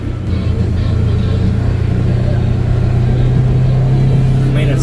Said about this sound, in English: It's a real nice treat pulling it in the Polaris.